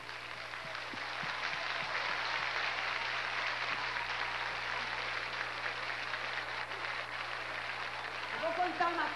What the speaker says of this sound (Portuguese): Aquele aplauso, agora sou eu que peço.